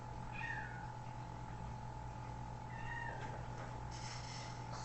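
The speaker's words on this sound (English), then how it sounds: "Cat just begging for attention." A house cat meows for attention, giving two short faint mews against a constant electrical hum and room noise.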